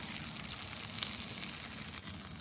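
Meat sears in a hot pan with a steady, close crackling sizzle that holds evenly throughout, with no talking over it.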